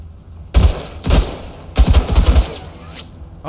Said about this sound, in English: we'll just go ahead and we'll open fire